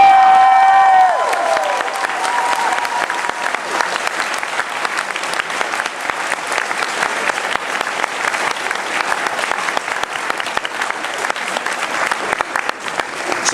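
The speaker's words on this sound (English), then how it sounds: "Give our guests a massive round of applause." An audience at the opening ceremony of a fan convention breaks into sustained, loud applause for guests, a dense continuous clapping that fills the whole stretch, with light cheering mixed in.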